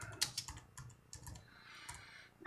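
Keys clatter in short, uneven bursts of typing on a computer keyboard, close and quiet, with brief pauses between strokes and no talk.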